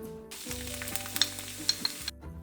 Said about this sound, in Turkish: Soğanlar pembeleşinceye kadar kavuralım. Tereyağı çok çabuk yandığı için daha sonradan ekliyoruz.